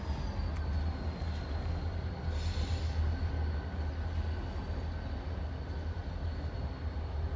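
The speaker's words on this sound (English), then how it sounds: "And I caught a train meet finally." Two CSX freight trains meet in West Springfield, one rumbling steadily past with a deep, continuous low roar and faint rail squeal, fairly distant and unbroken throughout.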